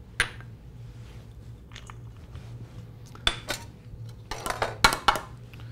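Cilantro and jalapenos are tossed together in a bowl with fresh lime, producing a few scattered clinks and scraping knocks against the bowl, clustered near the end, over quiet room noise.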